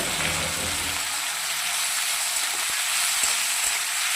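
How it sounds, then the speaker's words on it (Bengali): Cut potatoes, salted, sizzle and crackle in hot oil in a pan with a steady, close frying hiss and no voices. "কেটে রেখেছি, আলু ভাজবো।"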